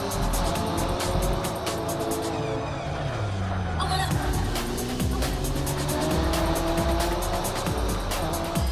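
A four-wheel drive race car in Project Cars 3 roars loudly with steady engine drone, rising and falling revs through gear changes, and repeated tire squeal in corners.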